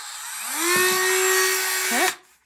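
A small Dremel rotary tool, working just inside the rim of a driftwood-handled egg basket, spins up, whines steadily at high pitch for over a second, then winds down and stops.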